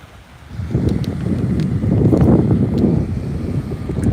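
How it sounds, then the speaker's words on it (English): Outdoor wind gusting across a microphone, a low rumbling buffet that swells after a quiet start and stays loud and steady, with no talking. "It's kind of windy out here."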